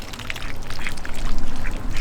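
Ducks on a garden lawn near a chicken coop quack in a run of close, repeated calls over a soft wet background.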